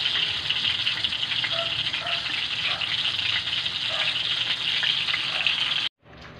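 Lumpiang shanghai with cheese frying in plenty of oil gives a steady, dense sizzle that holds evenly for several seconds before cutting off abruptly near the end.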